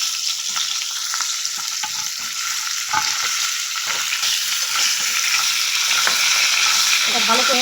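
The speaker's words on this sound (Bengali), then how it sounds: "এই পটলগুলো আমি ভালো করে তেলে ভেজে নেব।" Pointed gourd (potol) sizzling as it fries in hot oil with turmeric, a dense continuous crackle and hiss with occasional stirring scrapes, close and loud, no voices.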